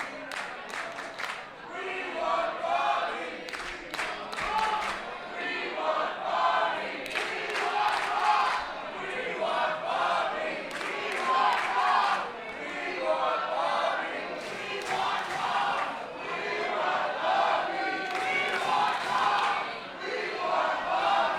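A wrestling crowd at a WPW triple threat match for the heavyweight championship chants in rhythmic, split call-and-response bursts, loud and sustained across the whole stretch.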